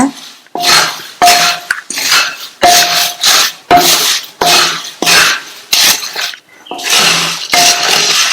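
Puffed rice is stirred in a pan over a low flame until crisp, making a rhythmic series of about a dozen close, loud scraping, rustling strokes with brief pauses between them.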